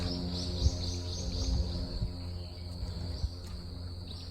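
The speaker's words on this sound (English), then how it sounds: "Lots of peaceful cricket noise, like cicadas and stuff." Steady, dense chirping of crickets or cicadas fills the air in Tokyo, a high continuous trill over a low background hum, with occasional soft knocks.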